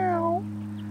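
Bobcat vocalizing on a golf course, a single short, descending, moaning call close by, fading into a low steady hum.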